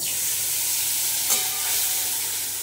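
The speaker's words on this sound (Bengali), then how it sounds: "এবার দিয়ে দিচ্ছি মশলা" Ground turmeric and salt go into hot oil for a bottle gourd dish, producing a loud, steady, close sizzle that hisses continuously throughout with a slight flare partway through.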